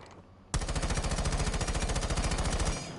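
Rapid automatic gunfire in a video game, a loud sustained burst of evenly spaced shots lasting over two seconds after a short quiet lead-in.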